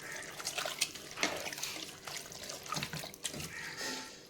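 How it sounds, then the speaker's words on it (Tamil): A tumbler of water poured into village-style country chicken curry in a cooker, a steady splashing, gurgling pour that fills the whole moment at close range. "இப்போது 1 டம்ளர் தண்ணி ஊற்றிக்கலாம் பொங்குற அளவுக்கு."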